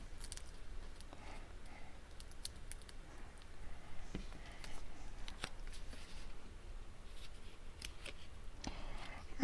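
Scissors trim and cut card paper close up, producing quiet, irregular snips and crisp rustling as the paper is handled, with no one speaking.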